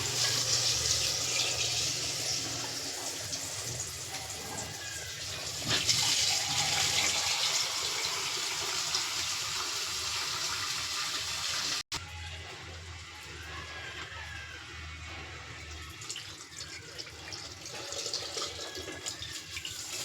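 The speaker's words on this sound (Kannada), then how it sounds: "ನಿಮಗೆ ಎಷ್ಟು ನೀರು ಬೇಕು ಅಷ್ಟು ನೀರು ಆ್ಯಡ್ ಮಾಡ್ಕೊಳ್ಳಿ." Steady splashing water pours continuously into a pan for the whole stretch, a close, even wash of liquid noise with a brief break midway.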